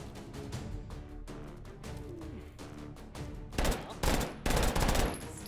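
Rapid gunfire in the VR shooter H3VR, a dense stream of shots with the loudest, sharpest bursts coming near the end.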